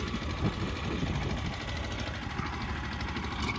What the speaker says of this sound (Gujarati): આ હે ભાઈ ઝીણકું ટ્રેક્ટર મિની